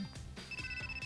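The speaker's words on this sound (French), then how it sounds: "c'est juste un téléphone qui sonne" A phone ringtone trills in quick pulsing bursts under a faint background hum in a café, heard briefly and at moderate volume.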